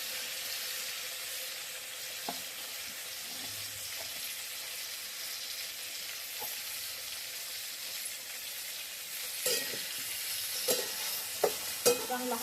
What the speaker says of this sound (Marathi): चांगला हलवून घेऊ.